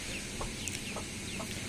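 Hen, a daughter of an Araucana, giving a few soft clucks spaced apart, close by over a steady low background hum.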